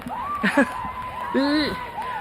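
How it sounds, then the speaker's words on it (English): Spectators cheer and shout at an endurance boat race, several distinct whoops and calls rising over a steady background murmur, fairly close to the listener, with brief bursts of excited voices. "there's a lot of cheering here, which is nice to hear"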